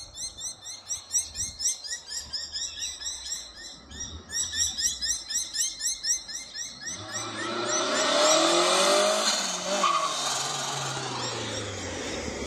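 A 1990 Nissan Pulsar Q (N13) turbo drives past, its engine rising to a steady loud roar in the second half, with birds chirping clearly over light traffic hum at the start.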